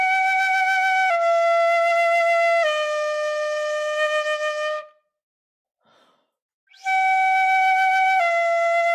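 A shinobue bamboo flute plays three clear, sustained notes stepping downward, then falls silent for about two seconds before the same descending sequence starts again, pure and breathy, alone.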